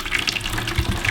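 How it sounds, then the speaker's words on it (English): Hot water recirculating from the bottom of a mash vessel during a homebrew rye IPA, a steady close gushing and trickling flow with low sloshing swells near the end. "I'm just recirculating the water now, taking some of the hotter water out from the bottom"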